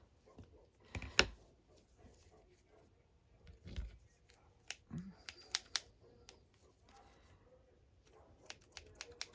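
Scattered snips and crisp clicks of scissors cutting, irregular and close, with quiet rustling between cuts.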